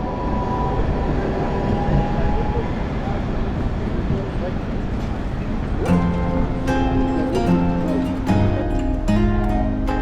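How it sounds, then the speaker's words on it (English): A tram passing along a street in Riga near the old town, a steady rumbling roll followed by squealing, ringing wheel and rail tones, loud and close, with a voice talking over it. "One of those funky looking trams."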